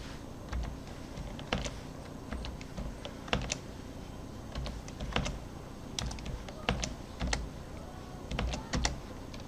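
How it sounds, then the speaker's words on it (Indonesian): Typing on a computer keyboard while entering Arabic text: a steady stream of close, crisp key clicks with occasional louder strokes over constant background hiss, with no voices. "Oke, ini agak ribet kalau pakai keyboard Arabik ya."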